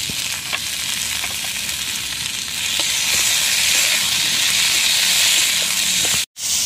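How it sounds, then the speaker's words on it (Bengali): Ginger paste and chopped green chillies fry with flat beans in a pan, giving a loud, continuous close sizzle with faint crackles and a brief dropout near the end. "আদাটা হালকা হালকা ভাজা হয়ে গেছে"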